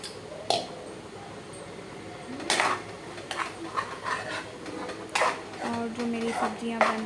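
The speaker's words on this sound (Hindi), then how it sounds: "जो मेरी सब्जियां बन रही है उसे मैं थोड़ा थोड़ा हिला रही हूँ ताकि वो जले नहीं" Vegetables and rice being stirred in cooking pots, with scattered metallic clinks and scrapes of a spoon against pot sides at irregular intervals, close by and moderately loud.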